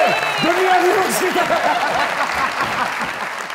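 A studio audience applauds at a comedy talk show, a sustained wash of clapping that fades slightly over a few seconds, with a voice speaking over the start.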